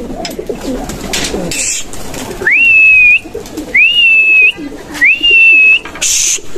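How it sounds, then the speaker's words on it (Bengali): Large pigeons call in three clear, drawn-out rising notes, close and loud, spaced evenly apart over a soft background murmur. "এগুলো হচ্ছে আমাদের বড় কবুতর"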